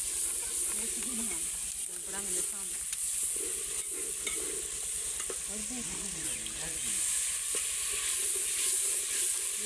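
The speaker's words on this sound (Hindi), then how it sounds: "अभी सालन पका रही हूँ। देखो आलू पालक" Potato and spinach curry (salan) sizzles steadily in a pan, a continuous close frying hiss with occasional stirring, while faint voices murmur in the background.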